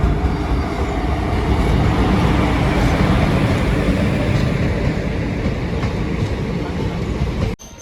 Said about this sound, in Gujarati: ફાઇનલી જે રાજકોટ કોકનો ટ્રેન છે આવી ગઈ છે